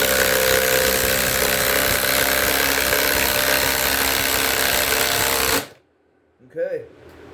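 Ryobi sub-compact impact driver runs at a loud, steady buzz under a stress test for about five seconds, then stops abruptly, leaving quiet and a short voice.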